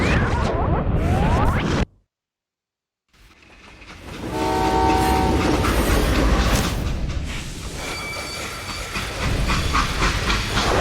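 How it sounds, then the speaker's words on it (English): A freight train in the video game Call of Juarez: Gunslinger rumbles and hisses with steam, its horn sounding in a brief tonal blast, broken by a moment of silence before the loud rolling din resumes. "They hopped a freight train having heard there was a big payroll in the express safe."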